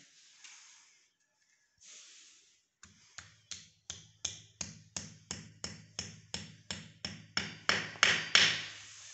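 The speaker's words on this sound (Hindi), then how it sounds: "दूसरी भी गट्टी ठोकते हैं" Wall plugs are hammered into a wall while a 22-inch LCD is mounted, a few faint taps followed by a steady run of about fifteen sharp, close hammer blows that grow louder and quicken toward the end.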